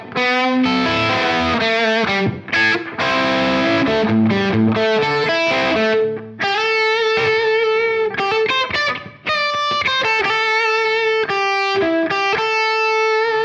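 Heavily distorted electric guitar plays a riff of chords and sustained notes through a distortion pedal, loud and crunchy, with brief pauses between phrases.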